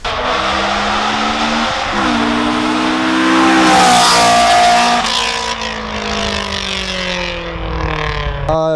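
A Honda S2000's loud dual-outlet aftermarket exhaust with decat revs repeatedly, engine pitch climbing and falling in bursts, close and aggressive with a harsh rasp.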